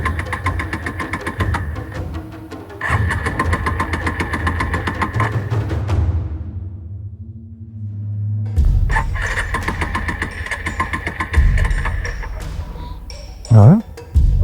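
A motorcycle that has just stalled is cranked and fires up again, its engine running in steady mid-pitched bursts with a pause as it dies and restarts, loud and close.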